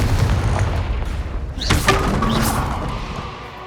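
The Confringo fire spell in Hogwarts Legacy going off, a single heavy booming blast with a crackling burst that fades over a couple of seconds, heard over a low ambient rumble.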